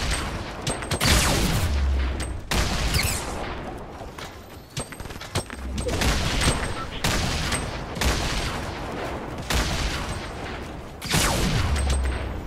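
Bursts of gunfire and grenade explosions in an intense multiplayer video game firefight, with loud volleys recurring every couple of seconds over dense, continuous combat noise while players talk.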